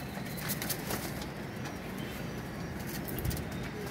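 Soft pigeon coos murmur over a steady noisy background, a few low calls repeating faintly with scattered chirps, no talking.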